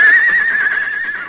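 A horse neighs loudly nearby in an old-time radio western, one sustained shrill whinny that wavers and fades over about a second.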